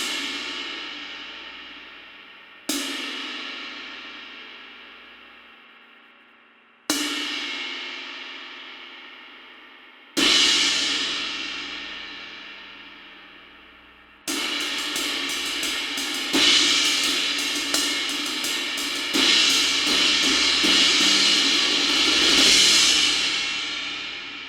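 A 21-inch Masterwork Fusion thin hammered ride cymbal: four separate strikes, each shimmering and slowly decaying, then a steady washy run of continuous riding, close and alone.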